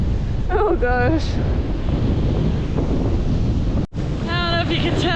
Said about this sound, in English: I don't know if you can tell how windy it is, but this is brutal.